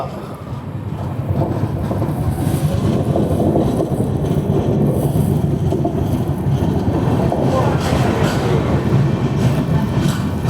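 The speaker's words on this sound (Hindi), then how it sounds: "एक बजकर 17 मिनट पर हमारी ट्रेन पहुंची है केसिंगा" Visakhapatnam–Mumbai LTT SF Express train at Kesinga, a loud, steady low rumble and rattle of rolling wagons heard up close from on board, building after the first couple of seconds.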